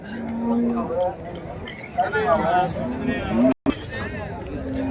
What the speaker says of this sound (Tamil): அதே வந்து இந்த சைடு வந்தவங்களா ஜெர்சி மாடுங்க, மாடு கன்றுங்க, கை கறவை.